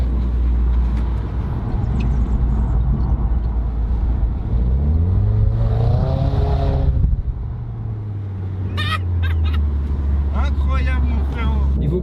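A Renault Clio 4 RS Trophy accelerates in one strong engine surge that climbs in pitch, then settles into a low drone, while people talk over it.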